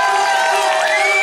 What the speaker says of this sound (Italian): me lo fate sentire un applauso per la Prologo di Ascoli?